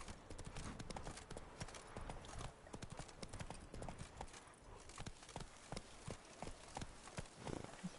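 Horse hooves in The Witcher 3: Blood and Wine clip-clop in a steady galloping rhythm throughout, close and fairly loud, with a faint whinny and a rider's voice now and then.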